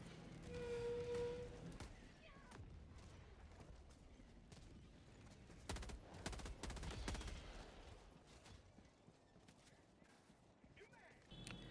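Liberator assault rifle fire in Helldivers 2, with short bursts of gunshots in controlled clusters and a louder volley in the middle, set against a busy battlefield background.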